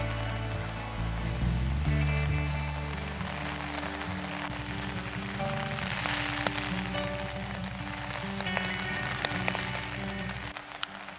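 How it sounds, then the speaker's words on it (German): Rain and wind on a hike beside a canal in the Hohe Mark area between Flaesheim and Haltern, a steady close patter of drops with gusty low rumble throughout, no voices. "Wind und Regen sind heute mein ständiger Begleiter."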